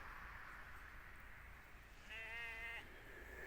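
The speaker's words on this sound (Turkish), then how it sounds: "Bizim kuzu gene bağırınıyor." A lamb bleats once, a wavering cry partway through, faint and a little distant against steady outdoor background noise.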